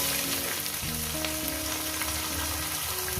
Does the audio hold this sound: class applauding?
no